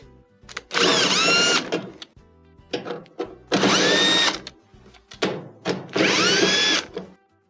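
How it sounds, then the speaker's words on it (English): A power drill backs screws out of the rear panel of a Whirlpool dryer: three loud whining bursts with rising pitch, separated by quieter rattling and handling noise, close up and with no talk. "To remove the console, we're going to take 3 screws out of the back panel."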